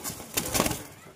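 A pair of Deshi Giribaz pigeons at a pigeon sale: a brief, soft flutter of wings with a faint bird sound, two quick bursts within about a second.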